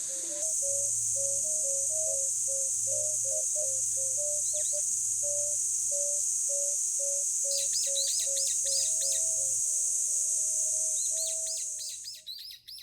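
A cuckoo calls over and over in a steady, repeating four-syllable phrase, while thin chirps from other birds and a constant high insect drone fill the background.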